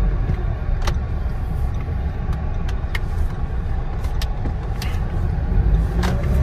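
Steady interior rumble of a car being driven, with road and engine noise constant throughout and a few faint ticks and clicks over it.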